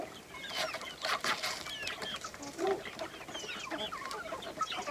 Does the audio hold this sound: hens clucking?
yes